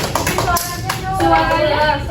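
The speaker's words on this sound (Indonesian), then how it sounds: "Tepuk tangan dong." A classroom of children clapping their hands in a short burst of applause, with talk and voices mixed in close by.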